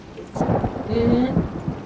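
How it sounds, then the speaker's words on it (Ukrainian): A heavy thunderstorm at a country dacha: a dense downpour roars steadily while low thunder rumbles through it, with no voices. "Але якщо по спра... по правді, то зараз просто паде ливень. сильний дощ, ливень, коротше. Гримить блискає"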